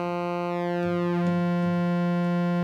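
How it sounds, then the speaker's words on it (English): A steady pulse wave from a Cherry Audio GX-80 software synthesizer, a bright buzzy sustained tone with a stack of even harmonics held loud and unchanging, with no voice over it. "if I turn this one on, this one here, I've got a pulse wave."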